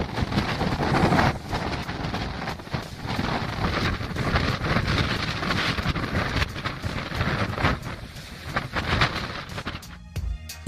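Strong wind gusting near 136 km/h at a polar research station, a loud, continuous roaring buffet with rough bursts and microphone rumble throughout, ending abruptly.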